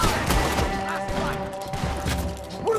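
Gunfire rings out in Red Dead Redemption 2, a scatter of loud shots and impacts mixed over a busy background, with no talk.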